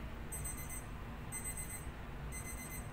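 A kitchen timer alarm rings in three evenly spaced bursts of rapid high beeps, cutting through the low, steady hum of a kitchen where lasagna sauce is boiling.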